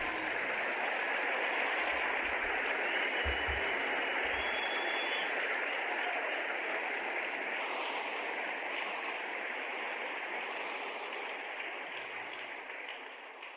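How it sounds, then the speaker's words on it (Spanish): Sustained applause from a church congregation, a dense steady wash of clapping with no speech over it that tapers slightly toward the end. "Un aplauso para él"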